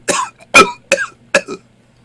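A person imitates a dry, hacking cough: four sharp, close coughs in quick succession, then silence.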